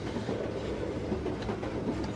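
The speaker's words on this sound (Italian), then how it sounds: "Poi stiamo su un treno." A train travelling on rails, a continuous rumbling roll with faint rhythmic clickety-clack, steady and close, with no voices.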